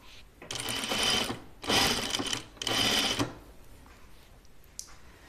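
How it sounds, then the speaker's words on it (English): A sewing machine stitching a seam on a shirtdress runs in three bursts of rapid mechanical whirring, each about a second long, with short quiet pauses between them. "So when I sew on the seam line, then it eases a little bit better."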